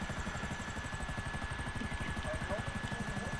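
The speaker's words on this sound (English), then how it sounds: "But you can't hit me with that helicopter" A helicopter in the video game GTA Online flies close overhead, its rotor beating in a fast, even rhythm under a steady engine whine throughout.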